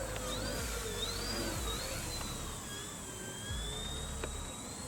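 An E-flite EC-1500 Twin RC plane flies low over grass. Its twin electric motors give a high, whining drone that bends up and down in pitch as it passes, loud and continuous.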